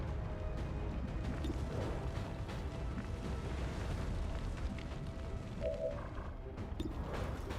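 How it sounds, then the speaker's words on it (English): Continuous dense rumble of explosions and bursts in the XCOM 2 battle, loud and sustained without a break, with a few sharper cracks standing out over the din. "Oh my goodness, everyone's exploding."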